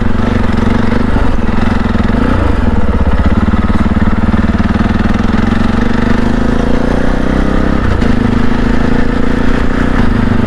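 A CSC RX4 motorcycle ridden on the Clermont clay loop gives a loud, close, steady engine drone with slight shifts in revving throughout, with no speech.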